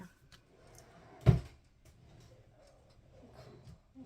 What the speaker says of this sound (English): Oh, something sticking in my drawers.